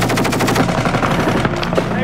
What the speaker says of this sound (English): What are they shooting at?